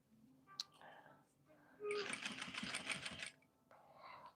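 Sewing machine stitching basting seams with a long stitch, a quiet rapid mechanical chatter lasting about a second and a half, with soft speech before and after it.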